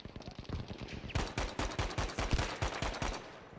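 An M1A1 rifle in Battlefield 5 multiplayer on PS4 Pro fires a rapid string of sharp, evenly spaced shots, soft at first and then louder and steady, with no talking.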